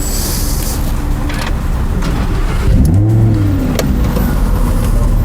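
A Lamborghini car driving, its engine rising in a brief rev midway through over a steady road rumble, fairly loud and close with no voices.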